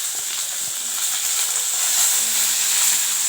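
Onions sautéing in hot oil with ginger in a pan for a chutney, a steady bright sizzle and hiss with faint stirring scrapes, rising slightly in intensity over a few seconds.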